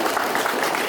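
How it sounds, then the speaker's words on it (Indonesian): An audience at a public gathering in Belu regency applauds a proposed youth programme with a brief, dense burst of many hands clapping, steady and moderately loud throughout. "Tepuk tangan buat paket satu"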